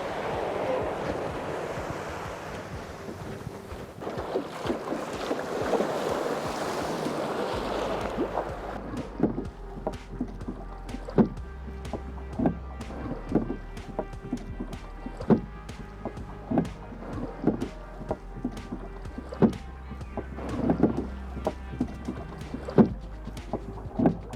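Wooden rowing boat crossing the Sea of Galilee, oars dipping in a steady rhythm of knocks and splashes after a stretch of wind and lapping waves, fairly close with water sounds throughout.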